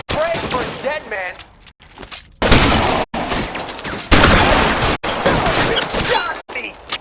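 Gunfire in L.A. Noire, loud bursts of shots in a 1940s Los Angeles shootout, broken by abrupt cuts, with shouted voices and scattered clatter between the volleys.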